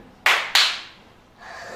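Students in an English class clap in two sharp, close claps a third of a second apart, followed by faint room noise.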